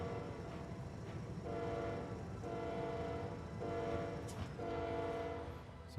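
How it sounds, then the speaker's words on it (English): A video-game train approaches under a steady rolling rumble, its horn sounding in several long, loud, harmonic blasts. "There's a train coming."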